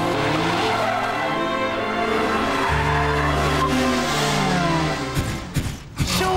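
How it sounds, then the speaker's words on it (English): Ferrari V8 supercar lapping a tight, twisty go-kart track, a loud sustained engine roar that shifts pitch through gears, then tires squeal and the revs drop near the end. "I'm in a 180 mile an hour supercar"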